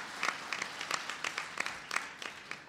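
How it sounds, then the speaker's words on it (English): A round of applause for Tom Vilsack from a conference audience at the Department of the Interior, scattered, moderately faint clapping with uneven bursts from a fairly small crowd. "Give Tom Vilsack a round of applause."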